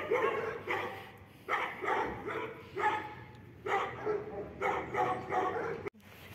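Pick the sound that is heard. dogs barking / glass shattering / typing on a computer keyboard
dogs barking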